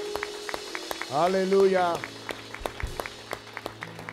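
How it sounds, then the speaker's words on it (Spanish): A church congregation claps in a steady, quiet rhythm of light, evenly spaced hand claps that continue throughout, while a single voice rises briefly in a sung exclamation over them. "¿Cuánto le dan un aplauso a la gloria del Señor?"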